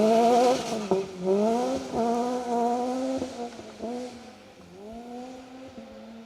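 Rally car on a forest stage of the Woodpecker Rally screams at high revs, climbing hard through several upshifts with brief drops between gears, loud and close before fading as it pulls away.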